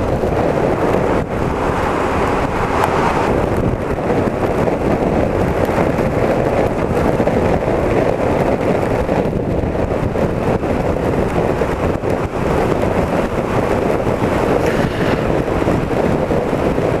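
Strong wind roars steadily against a motorcycle rider on a stormy night, a loud, unbroken rush of buffeting air with no voices.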